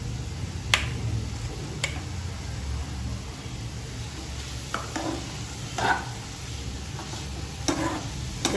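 Sliced purple cabbage being sautéed in a pan while making creamy white sauce pasta, giving a soft, steady sizzle with scattered clicks and scraping stirs throughout.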